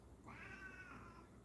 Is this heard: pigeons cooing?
no